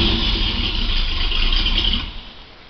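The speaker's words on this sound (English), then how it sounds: "that's barely one revolution with the starter cranking the engine over. It just fires right up" A 1957 Chevy engine fires on the starter and runs with a loud, close, steady mechanical roar for about two seconds, then quickly dies away.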